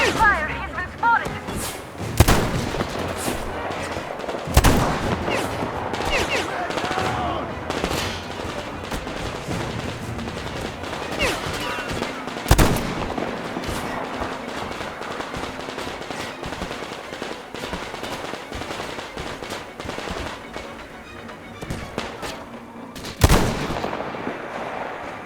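Gunfire and heavy thumping shots in the Metro Exodus video game, loud bursts recurring at irregular intervals over a dense, continuous battle din, with voices in the mix.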